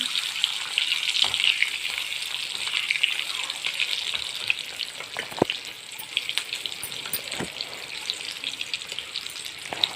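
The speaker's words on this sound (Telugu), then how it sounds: "చూడండి దాని తర్వాత మనం ఇంకొంచెం దాన్ని అయితే ఫ్రై చేయాలి." Eggs frying in a pan for Hyderabadi dum biryani, a steady bright sizzle running through the whole stretch with a few sharp pops and clicks of stirring, no talk.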